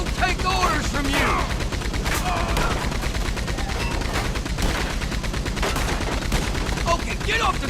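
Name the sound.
gunfire during train robbery in video game Red Dead Redemption 2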